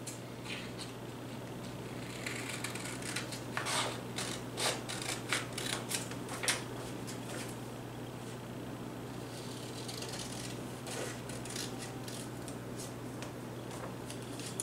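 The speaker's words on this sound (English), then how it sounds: "so let me cut this down a little bit" Scissors snip through a small piece of decorative matching paper during a Dollar Tree desk organizer craft, giving a series of soft, close clicks and cuts over a steady low hum, with no talking.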